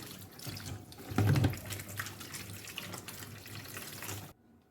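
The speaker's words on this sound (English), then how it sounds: "we're going to wash this unripe plantain very well with water" Tap water running over unripe plantains being washed in a kitchen, a steady close splashing rush with a louder surge midway, cutting off sharply near the end.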